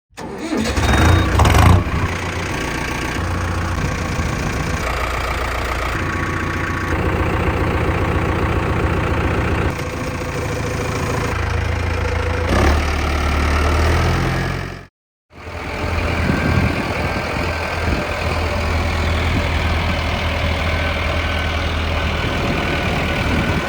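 A heavy diesel engine of a Mahindra Arjun NOVO 605 DI-PS tractor with a dozer attachment turns over and settles into a steady, rumbling idle, close by and loud, with a brief cut near the middle before the chugging resumes.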